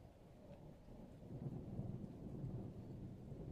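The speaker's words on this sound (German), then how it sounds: "Oh, wir haben auch Gewitter." Thunderstorm ambience in a murder-mystery adventure video game, The Infectious Madness of Doctor Dekker: a steady low rumble of thunder and rain swells and rolls at moderate volume without any speech.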